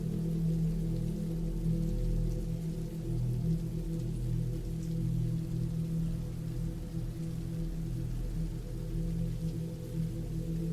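Steady rain falls without a break, a dense, even patter with a low rumbling undertone that holds at a constant level throughout, with no voices.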